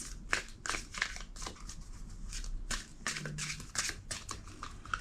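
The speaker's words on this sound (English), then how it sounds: "2 more shuffles." A deck of tarot cards is shuffled up close in a series of quick papery riffling bursts, repeated several times with short pauses between, and no voice over it.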